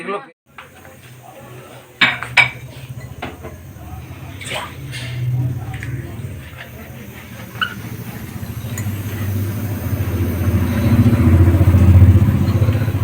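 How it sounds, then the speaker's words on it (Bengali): Plates and bowls washed by hand at home, a string of close clinks and clatters from the dishes over running water that swells toward the end, with people talking throughout. "বাবার জন্য প্লেট বাটি ধুয়ে পরিষ্কার করছে"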